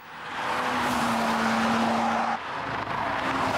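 A BMW M3 Evolution road car drives hard, its engine roaring loud and steady with a rising tone, then easing briefly before pulling again, close and alone without talk.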